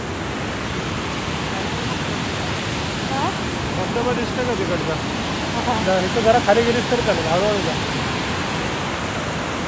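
Waterfall at Nijampur, Mangaon, a steady broadband rush of falling water filling the scene throughout, with people talking over it and faint birdlike chirps in the middle.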